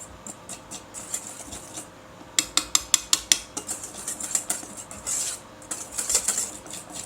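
Meringue is folded into pistachio paste in a bowl for a dacquoise, with a quick run of crisp utensil clinks against the bowl, then softer scraping and tapping.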